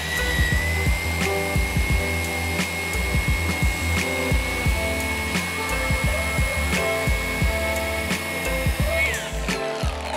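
A rotary polishing machine spins a glass polishing pad, giving a continuous whining drone with a steady pitch, close and loud, with repeated low knocks and someone speaking over it.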